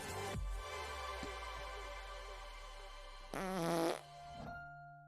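Loud, long, squeaky flatulence with a rising, buzzy tone, stopping and starting again in short bursts over a few seconds.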